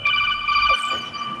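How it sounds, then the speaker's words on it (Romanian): A telephone rings inside the game Borderlands 2, its steady electronic ringtone holding several bright sustained tones and staying loud and close for the whole moment, with a brief rising sweep in the middle. "Sună telefonul."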